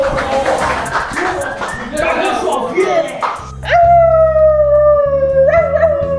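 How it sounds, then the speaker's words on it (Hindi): Busy chatter and commotion give way to a small dog's long, high, wavering howl, loud and close, rising again near the end. "छोटा कुत्ता।"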